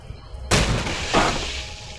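A bucket of ice tipped over in the point-and-click game A Vampyre Story, heard as a sudden loud crashing spill with a second clattering burst of ice about half a second later, then fading rattle.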